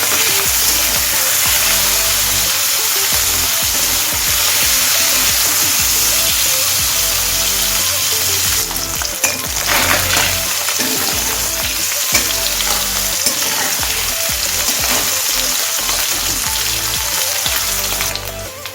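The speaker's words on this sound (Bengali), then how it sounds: "এবার মাছগুলোকে আমি হালকা করে ভেজে নেব।" Small mourola fish frying lightly in hot oil, a loud, dense, continuous sizzle and crackle that holds steady throughout, close up with no talking.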